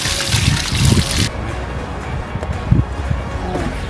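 Water trickles and splashes as seedling roots are rinsed clean, a close, steady dribble with brief louder gushes at the start and a couple of small splashes later.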